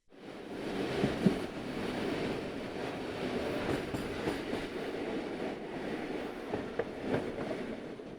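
Steady low hum and rumble of a passenger train's engine while running, heard from inside the carriage as a continuous, even drone that carries on without pause and without voices.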